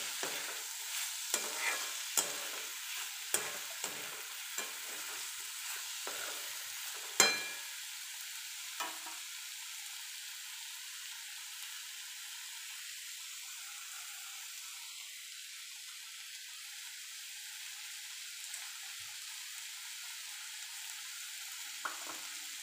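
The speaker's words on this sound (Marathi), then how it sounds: "याला 2 मिनटं असंच परतू द्यायचं." Tomato chutney sautéing in a pan gives a steady hiss of sizzle, with a flurry of spoon stirs and scrapes early on and occasional taps later.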